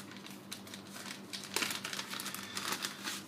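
Crinkling and rustling as a polystyrene wrapper and a small plastic bag are unwrapped from a vape device, with irregular close crackles that grow busier and louder toward the end.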